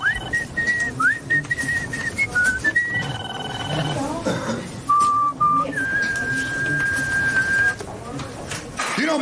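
Someone whistles a melody of held, gliding notes that step up and down, over a busy background.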